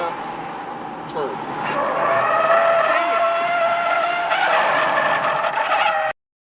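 A race car braking hard and turning on the track at Circuit of the Americas (COTA), its loud engine note rising and sweeping in pitch through the corner over a steady roar, with faint tyre squeal.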